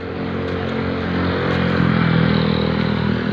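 A motorcycle engine runs close and loud in a village yard, holding a steady, rough idle with a faint rattle for a few seconds.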